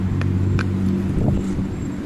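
Cars passing by a wide open park area with bleachers, heard as a steady low road rumble with a car swelling past midway, continuous traffic noise throughout with no talking.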